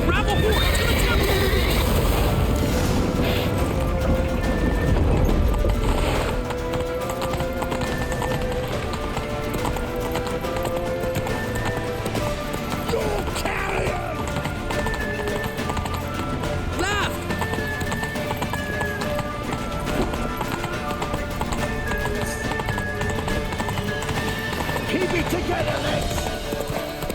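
Horse hooves clip-clop at a steady gallop in The Witcher 3, running under dense game music and effects while characters shout in urgent speech.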